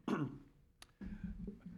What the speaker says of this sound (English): I had to cough because I knew I wasn't